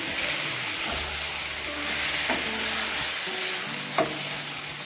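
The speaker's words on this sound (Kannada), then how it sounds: "ನೀರುಳ್ಳಿ ಟೊಮೆಟೊ ಎಲ್ಲ ಮೊದಲಿಗೆ ಚೆನ್ನಾಗಿ ಫ್ರೈ ಮಾಡಿಕೊಡುವ" Onion and tomato frying in a pan for chutney, a steady close sizzle with soft stirring scrapes and a sharper utensil clink near the end, no talk.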